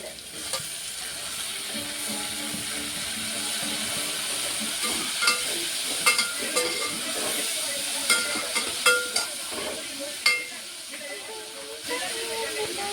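Tomatoes frying in a pan make a steady close hiss and sizzle, with brief crackles and stirring clicks popping out now and then over about thirteen seconds.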